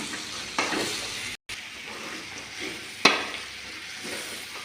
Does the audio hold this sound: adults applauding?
no